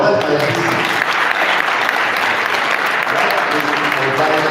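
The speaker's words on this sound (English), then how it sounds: "So please, another round of applause for the yeah, finally," An audience at a stakeholder sensitization and farmer training event on good agricultural practice claps loudly and continuously, a dense burst of applause from a nearby crowd.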